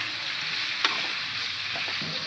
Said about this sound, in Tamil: நம்ம கட் பண்ணி வச்சுருக்க சவுச்சவு இதில் போட்டு போகிறோம். இது நல்லா இப்போ வதங்கட்டும்